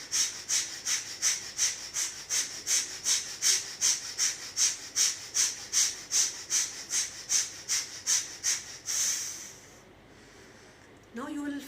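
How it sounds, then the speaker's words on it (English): Rhythmic, forceful nasal breaths pump in a rapid, even series of about twenty sharp exhale-inhale strokes during a dynamic breathing exercise done bent backward, then stop with a longer breath and a brief pause. "start doing the dynamic breathing"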